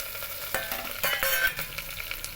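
Bottle gourd frying in oil with mustard seeds and ginger-garlic paste, a soft steady sizzle broken by a few scraping stirs of a spoon in the pan, close up and quiet, with nobody talking.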